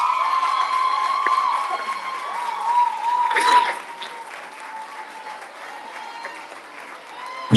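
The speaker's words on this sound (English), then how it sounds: "Keep the applause going" An audience at a high school award ceremony claps warmly as an awardee for student services comes forward, applause holding steady and then swelling briefly before fading, with a voice faintly over the crowd.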